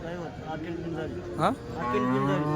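Cows at a busy cattle market moo in long, drawn-out calls, one after another, fairly close amid faint crowd background noise.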